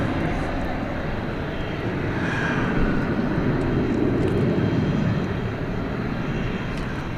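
A steady jet engine roar from an MD-11 pushing back at night at DFW Airport, sitting at an even, moderately loud level with a faint whine running through it.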